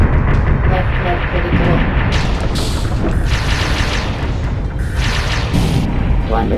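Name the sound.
explosions from mech weapons in video game VOX Machinae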